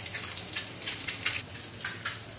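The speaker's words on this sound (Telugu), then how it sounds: "ఏగేసేయండి, ఏగినవి తరువాత ఉల్లిపాయ పచ్చిమిరకాయ కూడా ఏగిపోయింది." Eggs frying with onion and green chilli for a tomato egg curry, faint sizzle broken by regular bursts of stirring and scraping in the pan, close up with no talking.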